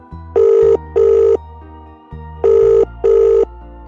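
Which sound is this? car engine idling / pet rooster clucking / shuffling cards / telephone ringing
telephone ringing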